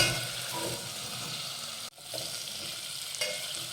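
Masale bhat base with turmeric and finely chopped coriander, sizzling and stirred in a pan. The frying crackle is loud and steady, with a brief break near the middle before it resumes.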